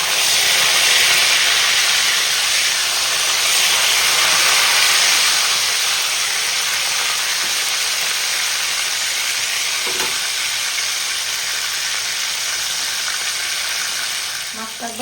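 Rohu fish pieces fry in hot oil, making a loud, dense, steady sizzling hiss up close that barely changes for the whole stretch before easing slightly at the end.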